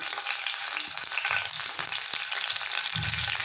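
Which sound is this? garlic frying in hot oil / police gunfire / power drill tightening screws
garlic frying in hot oil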